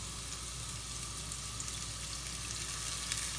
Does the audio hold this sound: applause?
no